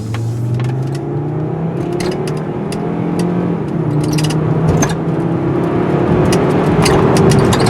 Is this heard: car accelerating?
yes